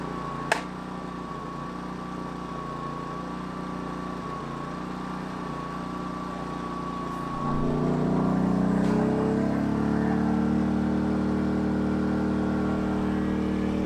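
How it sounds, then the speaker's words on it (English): Gasoline inverter generator charging Kress commercial batteries: a steady, fairly quiet engine hum that audibly ramps up about halfway through to a louder, higher-revving drone, which then holds steady. "So there you go, it's ramped up a bit in the RPMs."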